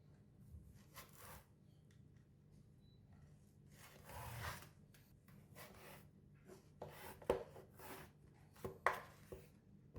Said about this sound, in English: Cut it into quarter vertically.